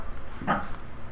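A single short dog bark or yelp from a game dog in Silent Hill 3, a brief mid-pitched burst standing alone over a low ambient background.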